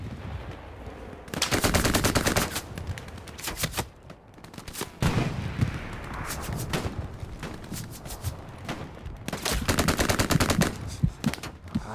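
Bursts of automatic gunfire in a World War II–style shooter skirmish match, rattling volleys coming in waves near and far with a few single cracks in between, no talking.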